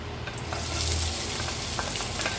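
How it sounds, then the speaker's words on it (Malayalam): Ginger and garlic sizzle and fry in hot coconut oil in a pan, a loud, steady crackling hiss with occasional stirring scrapes and no talking. "ഒരു പാനിലേക്ക് 1 ടേബിൾ സ്പൂൺ വെളിച്ചെണ്ണ ഒഴിച്ച് അത് ഇഞ്ചിയും വെളുത്തുള്ളിയും കൂടി ഒന്ന് വഴറ്റിയെടുക്കാം"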